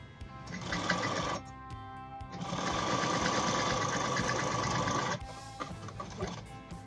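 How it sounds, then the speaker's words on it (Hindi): An electric sewing machine stitching a pocket on bell-bottom pants, running in steady rapid bursts: one short run, a pause, a long continuous run, then a brief restart, close and loud, with no talking. "यहाँ से ऐसे पॉकेट की स्टिचिंग करेंगे"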